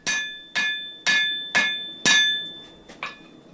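Five ringing hammer blows fall in an even rhythm on a cable Damascus knife blade drawn out at the forge, followed by two lighter taps, each strike bright and metallic with a short decaying ring.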